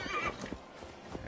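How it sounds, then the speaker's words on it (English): A horse whinnies in Assassin's Creed Valhalla after being called, giving one short neigh followed by a softer snort, fairly close and clear over faint game background. "I am just going to call my horse."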